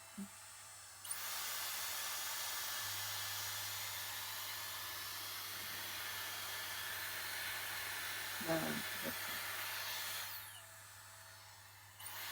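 A Dyson Airstrait hair straightener blowing air like a hair dryer, a steady loud whooshing hiss that switches on after a second and runs for about nine seconds before cutting off, with brief handling noises.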